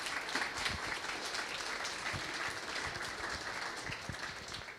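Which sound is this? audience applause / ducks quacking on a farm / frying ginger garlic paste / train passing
audience applause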